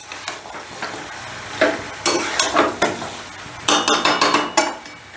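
Fish head and soybean chunks are sautéed in a pan, loud and close, with a steady sizzle and rapid rhythmic scraping strokes of a spatula in two bursts.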